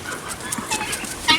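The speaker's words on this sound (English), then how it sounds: "I see some of the hens are still in there eating and don't want to come out." Hens cluck softly in a coop while they eat, a busy overlapping chatter of short, close calls from several birds.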